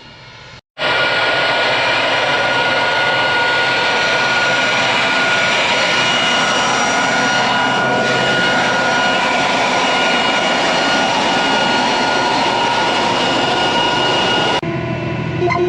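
Loud, continuous roar of two vacuum fans and a blower running steadily on a John Deere planter, dense and unbroken from start to finish.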